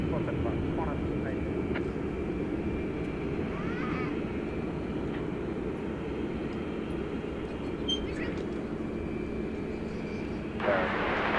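Aircraft at DFW Airport at night produce a low, continuous distant roar that holds steady throughout, with only faint brief variations.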